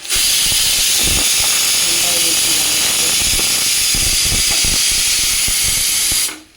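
Pressure cooker steam from cooking mutton gravy hisses out in a loud, continuous high blast for several seconds, then cuts off abruptly, with faint clatter underneath.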